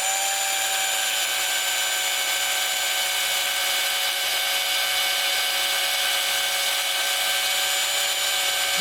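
A power drill runs slowly and steadily while boring into the body of a C8 Corvette to fit a Z06/Z07 conversion wing, a continuous tonal whine with harmonics held for the whole stretch, fairly loud and close, with no talk.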